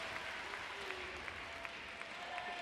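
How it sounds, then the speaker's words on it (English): Crowd applause at a London 2012 Class 1 men's singles table tennis gold medal match, France versus Germany, a steady wash of clapping filling the arena at moderate level with faint background voices. "The Britain crowd responding to this."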